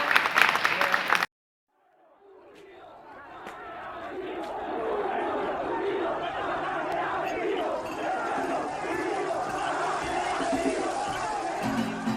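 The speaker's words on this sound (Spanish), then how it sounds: "Yo pido un fuerte aplauso para cerrar cada una de las intervenciones y dar paso." After a brief burst of sound and a moment of silence, applause from a gathering of retired education workers swells gradually into a sustained, fairly loud crowd roar with scattered shouts.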